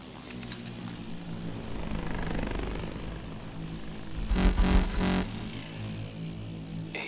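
A helicopter in the video game Call of Duty Advanced Warfare, set in a Bulgarian forest, drones as it moves away, with a low rotor rumble that swells briefly mid-clip before fading back into the background.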